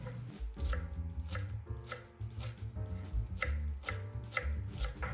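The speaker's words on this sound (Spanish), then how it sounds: "Mientras la carne está marinando, voy a cortar un mazo de cilantro." A knife chops a bunch of cilantro on a cutting board in a taco kitchen, with quick, even thuds repeating close by and nothing else heard.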